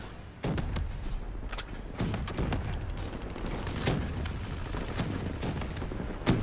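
Gunfire in the shooter Black Ops 3 on the Nuk3town map, rapid bursts of loud close shots crackling one after another over steady background noise.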